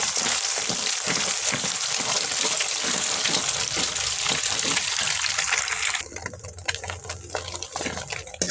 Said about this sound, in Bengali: ডিমটাকেও ভেজে নেব।